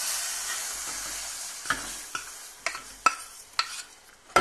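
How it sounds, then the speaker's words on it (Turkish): Roasted flour is whisked into cold milk for Turkish milk halva: a soft hiss of stirring builds into a run of sharp, rhythmic whisk taps against the pot, close and alone without talk. "Şimdi kavurduğum unu soğuk sütün içerisine karıştırıyorum yavaşça."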